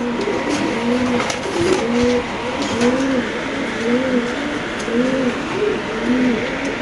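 Racing pigeons coo in a loft, with repeated low throaty rolling calls that overlap in a steady rhythm. The birds sound close and fairly loud against faint background noise.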